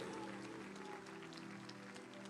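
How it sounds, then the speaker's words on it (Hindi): A church congregation claps loudly for God during a Hindi-language worship service, a dense continuous roar of many hands with a faint murmur underneath. "जोर से ताली बजाओ परमेश्वर के लिए"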